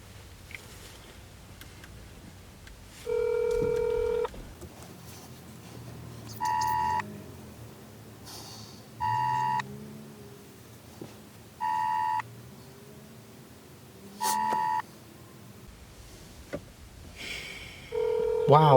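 A telephone on a call rings repeatedly as a series of short electronic tone bursts, spaced a couple of seconds apart. A voice talks faintly in the background.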